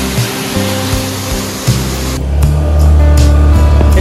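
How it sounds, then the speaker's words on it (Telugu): A small waterfall on the Mullayanagiri peak trek in Karnataka rushes as a loud, steady wash of water that swells in the later seconds, with a low rumble underneath. "Guys, mini water fall."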